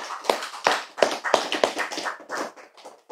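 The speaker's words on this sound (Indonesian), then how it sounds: "Tepuk tangan." Hands clap in a loose rhythmic series of sharp claps at an Islamic religious sermon, about seven claps spread over a few seconds, close and fairly loud with no speech.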